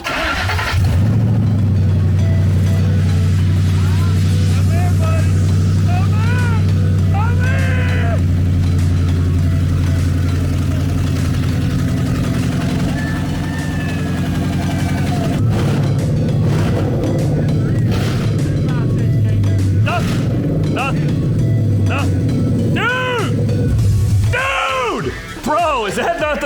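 A Ford F150 pickup with a swapped-in Coyote V8 and no driveshaft cranks, fires and keeps running with a loud, steady low rumble and a few sharp revs near the end, while people talk.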